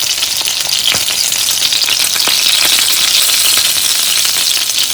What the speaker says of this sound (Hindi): जब हमने अपने कबाब फ्राई करने हैं तो हमने इसे मीडियम फ्लेम पे रखना है